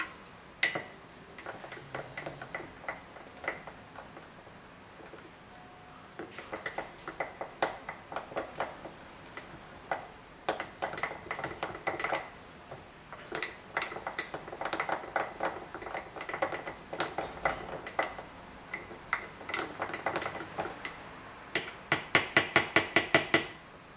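Flour and water for a sourdough starter stirred in a container, a run of quick, close, light tapping and scraping clicks that comes in uneven bursts, growing busier and sharper toward the end.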